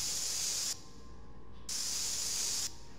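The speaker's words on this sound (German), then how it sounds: "Ich schätze, ich kann damit Feuer löschen." A fire extinguisher sprays in the Monstrum video game as two bursts of bright, harsh hiss with a quiet gap between them and the second cut off near the end, close and loud with no talking.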